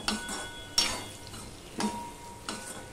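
Chili powder and spices stir-fry in a pan with a quiet sizzle, broken by several scraping spatula strokes at irregular intervals, heard close.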